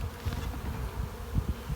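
Honey bees hum in an open hive colony, a dense close buzzing drone with small fluctuating bursts throughout, no talking.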